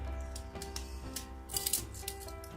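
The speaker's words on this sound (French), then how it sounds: "il coupe pas trop le ciseau, c'est chiant" Blunt scissors snip through material in a few quick, crisp cuts at close range, with some light handling noise between.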